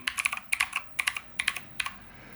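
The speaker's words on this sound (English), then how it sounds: "So far, the keys on it feel brilliant. Nice and clicky, nice and crunchy." Fingers type on a MotoSpeed CK61 mini mechanical RGB keyboard, with bright, crisp, clicky keystrokes landing in quick uneven clusters close up and no talking.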